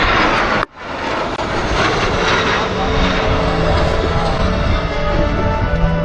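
Aircraft taxiing at an air show, heard as a steady, loud engine roar that fills the whole clip, broken only by a brief dip near the start.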